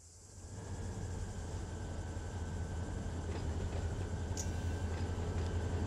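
An outbound freight train moves steadily, giving a faint, distant low rumble and wheel noise that builds slightly and then holds even, with no voices.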